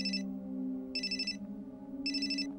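A coffeehouse owner's telephone rings in three evenly spaced bursts of bright electronic trilling, heard over a steady low hum of room noise.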